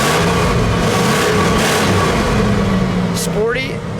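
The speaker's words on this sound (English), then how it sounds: "Go ahead, give it a rev." A red 1968 Ford Thunderbird Landau with a 429 V8 being revved, a loud, throaty engine note swelling and holding up close, with a passing car-like sweep near the end.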